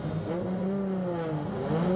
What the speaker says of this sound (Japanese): あっとここで水谷選手のマシーンがドリフト状態には入っていない